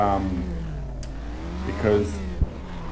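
A car rolls along slowly in automatic on a track, its engine humming at a moderate, fairly steady pitch with a faint bump near the end.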